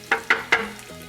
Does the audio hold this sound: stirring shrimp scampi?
yes